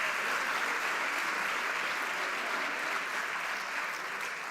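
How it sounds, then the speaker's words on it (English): Sustained applause from a graduation audience at a masters ceremony, a dense steady wash of clapping that holds at an even level throughout with no voices standing out. "so let's give them a round of applause"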